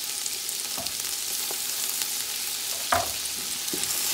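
Turkey and hot pepper frying in a pot for turkey fried rice crackle with a constant close sizzle, broken by a few sharp scrapes and clinks of a stirring utensil.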